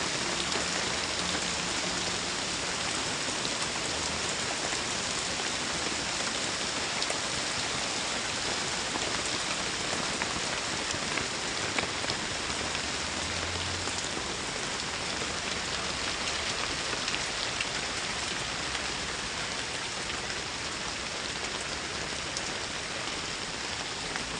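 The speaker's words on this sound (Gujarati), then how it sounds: "તમે જુઓ છો કે અહીંયા ફૂલ ભારે વરસાદ પડે છે" Heavy monsoon rain pours steadily and evenly throughout in Vapi, a dense continuous hiss of drops hitting surfaces with no voices.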